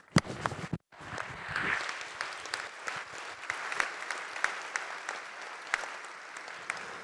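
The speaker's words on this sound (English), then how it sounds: "So thank you to our all panelists. I propose that we applaud." An audience applauds panelists at the close of a plenary session of space agency heads, a steady wash of clapping with sharper individual claps, fairly close and with no talk over it.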